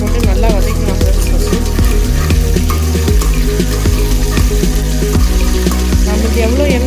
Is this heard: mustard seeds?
yes